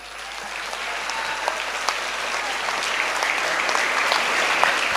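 An audience at a campus Expert Day event applauds and cheers for the two finalists, a dense, sustained round of clapping that grows slightly louder over five seconds, with no talk over it.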